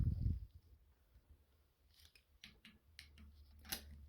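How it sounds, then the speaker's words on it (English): Needle nose pliers click and scrape at the internals of a long-idle Delphi CAV DPS injection pump from a New Holland 7840, prying out liner and blades with a few faint metallic snips and ticks close up. "Then I use a pair of needle nose pliers. We're going to pull our liner and blades out."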